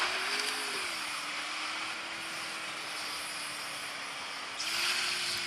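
Motorbike engine in a video game, a steady droning hum that holds one pitch with slight wavering and swells a little louder near the end, with no talk.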